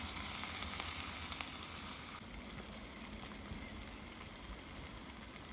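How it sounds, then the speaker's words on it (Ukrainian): Onion goes into a pan of fried pork fat (salo) and sizzles with a steady, dense hiss that eases slightly partway through and then carries on evenly. "Сальце обсмажили і додаємо туди нашу цибульку."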